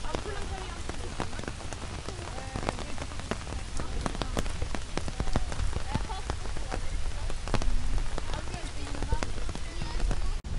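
Steady rain falls on Central Park in New York, southeast of the reservoir, a dense hiss of drops pattering nearby surfaces with scattered sharper ticks throughout.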